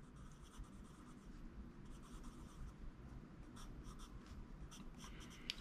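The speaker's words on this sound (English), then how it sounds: "It has a whole different sound as the graphite hits the paper." Soft, continuous scratching of a black graphite pencil on paper, close up and quiet, with small irregular strokes throughout.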